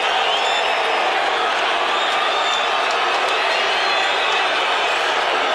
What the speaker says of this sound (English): a lot of people are clapping here